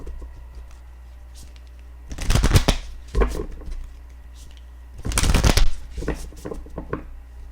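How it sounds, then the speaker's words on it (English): A deck of oracle cards is shuffled and drawn in two loud, rustling bursts, close up, with softer card handling and light taps between them. "And then I'm going to pull an oracle card as usual."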